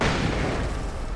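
Flashbang in the video game Alan Wake Remastered, a loud, close burst that fills the whole moment and then rings on with only a slight fade.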